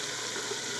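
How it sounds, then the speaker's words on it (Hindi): Potatoes fry in a pan for aloo pulao with a steady, even sizzle for a brief moment, with no voices. "4 से 5 मिनट आलूओं को भूनेंगे।"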